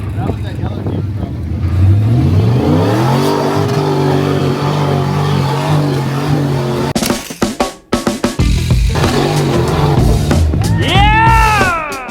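A Jeep Willys FC 170 cabover, built for off-road use and fitted with 17-inch beadlock wheels, revs its engine hard and holds it loud and close. A sharp break interrupts the engine, then it climbs again, with voices heard faintly at times.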